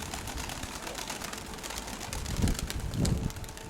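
Young pigeons cooing at a loft, soft low coos swelling twice near the end over steady wind and rustling background noise.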